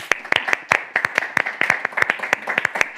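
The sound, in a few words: audience applause for John Auger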